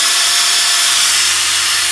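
Power drill boring at an angle into a BMW throttle actuator part, a steady high-pitched whirring grind held close and continuous throughout with no pauses.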